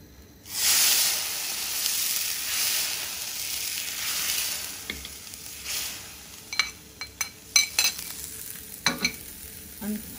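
Hot butter tempering poured over Turkish lentil soup, with a loud steady sizzle and hiss that rises suddenly and continues for several seconds, followed by scattered clinks and scrapes of utensils near the end.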